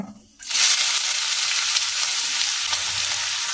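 Chopped onions and cumin seeds hit hot oil with a sudden loud sizzle after a brief quiet start, then fry steadily and continuously without any talk, while an occasional stir is heard under the hiss.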